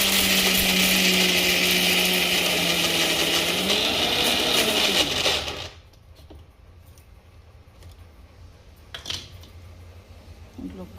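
Electric mixer grinder whirring loudly as it grinds masala of stone flower and poppy seeds, a dense roar running for about five seconds before cutting off into quiet room sound.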